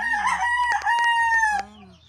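A gamecock crowing once up close, a loud drawn-out cock-a-doodle-doo lasting well over a second, with a short cluck before it and a quiet tail afterward.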